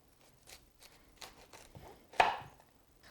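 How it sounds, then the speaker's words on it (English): A knife chops cauliflower on a cutting board in sparse, quiet taps with one sharper, louder cut near the end, no voices. "now with the last vegetable chopped up, which is the cauliflower"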